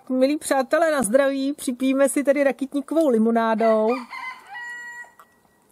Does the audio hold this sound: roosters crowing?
yes